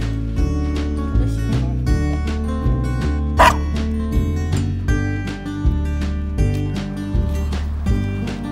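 A Lhasa Apso dog gives short, sharp barks and yips at irregular intervals over steady background music, fairly close and clear.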